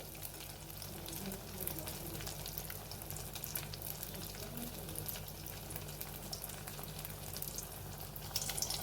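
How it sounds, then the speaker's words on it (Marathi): Potato slice bhaji, battered on both sides, frying in a shallow amount of oil, giving a continuous low sizzle and crackle throughout, moderately quiet and close. "आणि मग छान खरपूस तळून घ्यायचे"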